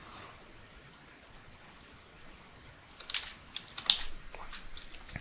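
Computer keyboard keys tapped in a short, soft burst, quiet at first and then a cluster of sharper clicks near the end, heard alone without speech.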